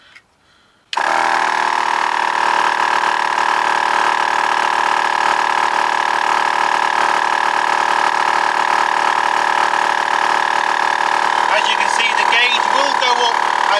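A T-Max 12V air compressor inflating a tyre starts abruptly after a brief quiet moment and then runs with a loud, steady motor drone and buzz that never lets up, close by.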